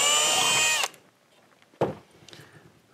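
A power drill bores a pilot hole into a wall for a molly bolt hollow-wall anchor, a steady high whine for under a second that cuts off, then a single sharp knock and faint handling noise.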